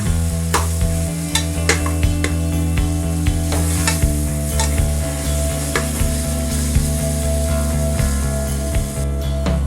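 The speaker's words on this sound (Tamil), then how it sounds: "பூண்டு பேஸ்ட் போட்டு வதக்கிக்குவோம். ஒரு 1 நிமிஷத்துக்கு நல்லா வதக்கி வருவோம்." Garlic paste sautéing in a pan for biryani, with a loud, steady sizzle, a persistent low hum and regular sharp stirring scrapes, close and continuous without speech.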